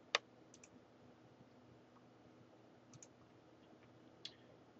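A few faint, close mouse clicks while setting up a virtual machine, with one sharp click at the start and softer clicks later over a quiet background hum.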